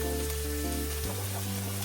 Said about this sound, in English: And then I'm going to add my carrots to it